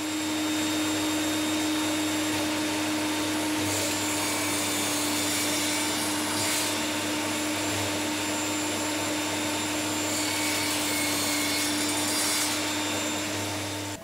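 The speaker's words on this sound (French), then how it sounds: "Et je vais le faire à la scie, donc j'ai réglé la profondeur pour que ça passe dans le trou." A power saw cuts small slots in wood with the depth set to pass into a hole, a loud continuous whining drone with a steady hum that holds for the whole stretch, swelling slightly a few times, with no talk.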